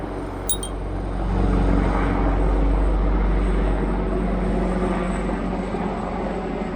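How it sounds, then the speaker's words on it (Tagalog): A helicopter flies overhead in a quiet residential area in Japan, a steady, loud rotor and engine drone that swells after the first second and holds on without pause, with no talking. "helicopter"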